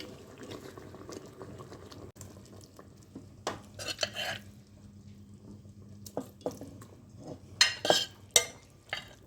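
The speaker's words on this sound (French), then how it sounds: "je vais rajouter la viande dans la cuve" Meat goes into a Cookeo multicooker pot for veal blanquette, with soft wet stirring and spoon clatter against the bowl over a quiet background, rising to a few louder scrapes toward the end.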